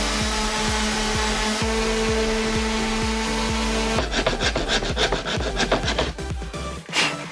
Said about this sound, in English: Power sander.